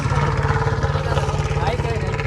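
Close idling TVS motorcycle engine with a steady, rapid low putter and pulsing throb, with people talking over it.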